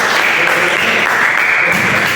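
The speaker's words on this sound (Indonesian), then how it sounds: "Bagus-bagus semua, tepuk tangan bagi semua." A classroom of students gives a short burst of clapping for their peers' presentations, a dense, steady patter of hands close by with no voices over it.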